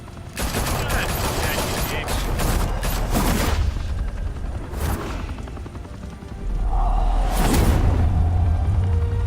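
Rapid bursts of automatic gunfire in the Batman Telltale game crackle loudly and densely, broken by heavy booms and whooshes, with a deep rumbling low end swelling again near the close.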